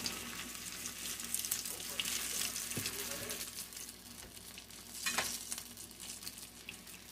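Squirrel egg rolls frying in hot oil in a small pan give a steady, moderately loud sizzle throughout, with brief bursts of crackle as pieces are lowered in.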